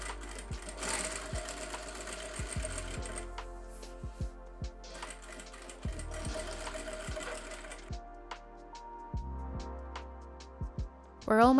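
A domestic sewing machine runs in bursts while understitching the lining side of a fitted vest, with steady motor whir broken by short pauses and clicks, close and clear.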